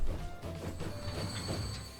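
A train rolls along a line in Transport Fever 2, giving a brief, steady low rumble with thin, faint squealing tones above it.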